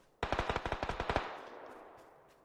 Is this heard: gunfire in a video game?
yes